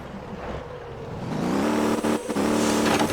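Off-road supply truck in the video game Motortown, its engine building from a low rumble into a loud, steady revving drone with a brief dip near the end.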